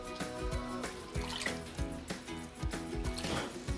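A homemade carrot, beetroot and ginger drink with sugar is poured over ice, giving a steady liquid trickle and splash with soft, repeated clinks of ice throughout.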